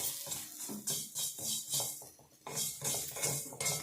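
Gooseberries and other ingredients are roasted in an iron pan, heard as quiet, close metallic scraping and clinking of a utensil against the pan in short, irregular bursts.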